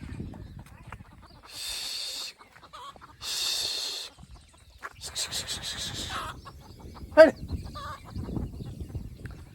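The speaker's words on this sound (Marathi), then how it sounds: "कोंबड्या खाली टॉक टॉक करते" Hens cluck in short bursts nearby while someone talks on and off between them.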